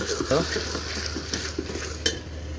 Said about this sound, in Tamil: அதனால் நல்லா கிண்டி விட்டுட்டே இருங்க